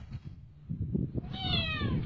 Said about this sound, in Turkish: La kedi!